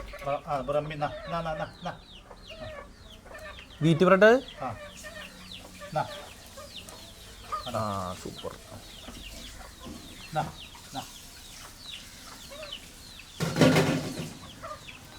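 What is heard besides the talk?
rooster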